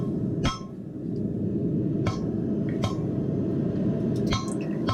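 Blacksmith hammering hot steel to draw out a taper for a leaf, with sharp, isolated hammer strikes spaced irregularly over a loud, steady roar that sounds like a forge, close by, no talk.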